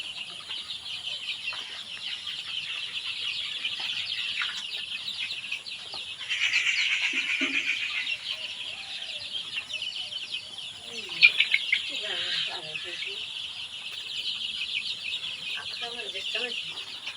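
A poultry farm shed holding roughly 85 to 90 chickens gives off a steady, dense chorus of clucking and chattering, with a few louder bursts rising above the constant flock noise.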